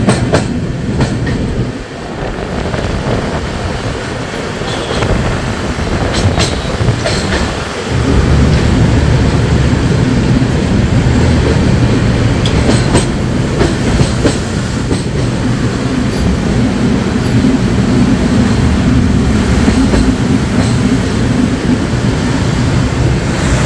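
A passenger train runs on rails near Malda Town station, with a loud, continuous close-up rumble of wheels and carriages and occasional sharp clacks over the joints. No one speaks.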